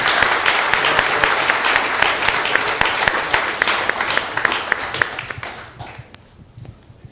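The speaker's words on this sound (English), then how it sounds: "Let's give them both a round of applause." An audience at a property owners' association board meeting breaks into applause. The sustained, dense clapping holds steady, then thins and fades over the last second or two.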